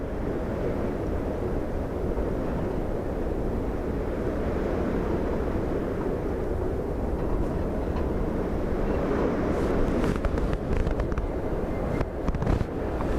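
Strong gusting crosswind of 34 knots gusting 47 buffets the microphone at Dublin Airport during Storm Bram, a loud continuous low roar that swells and surges, with sharp crackling bursts near the end and no talk.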